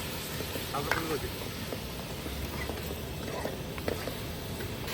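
Spices and turmeric fry for mutton charu with a low, steady sizzle, broken by a few faint stirring clinks and scrapes, with faint talk in the background.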